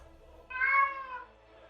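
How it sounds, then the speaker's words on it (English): A cat gives a single clear meow, close and fairly loud, rising and then fading over about a second in an otherwise quiet room. "That's just a cat."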